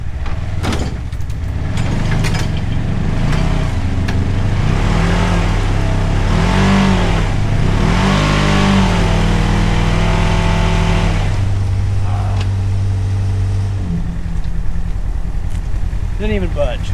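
Engine of a stuck vehicle revving hard while trying to pull back a few feet, a loud steady low drone that swells and holds, then drops off near the end.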